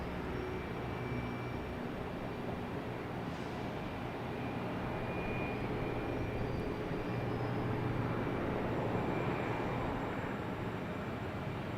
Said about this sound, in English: we got a Cape Air taking off on 4 lefts from Charlie, right in front of us